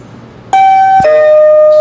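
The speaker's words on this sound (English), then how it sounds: "So, if you want to use it as a doorbell, that's the sound you want." A motion sensor alarm sounds a loud two-note ding-dong doorbell chime, the bright high tone dropping to a lower sustained tone, very close and clear with no talking.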